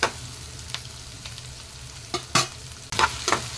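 Onions and tomatoes sauté in a pan for chicken kulambu, a low steady sizzle broken by a few sharp stirring scrapes and clatters near the end.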